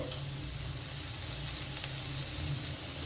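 Food frying in a pan on a low gas flame, a steady, even sizzle with soft crackles close up, no voices.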